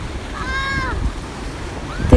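Ocean waves wash onto a beach shore in a steady broadband rush during a family outing, with a brief high voice briefly rising over the surf.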